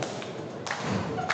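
A sharp thud of a wrestler's strike landing on an opponent's head in a Texas Contenders Series match, with a second impact toward the end, heard amid steady arena crowd noise.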